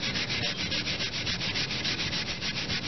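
Tissue rubbing rust-removal paste over a motorcycle exhaust, a close, rhythmic scrubbing swish repeating quickly back and forth without pause.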